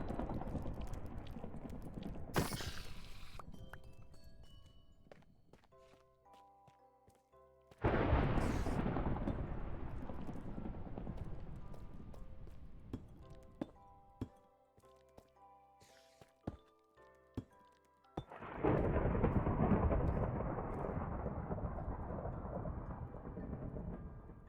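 Minecraft thunder rolls in during a storm, with several long, loud booming crashes spaced apart that each swell suddenly and then fade slowly. Sparse plinking game sounds sit between them.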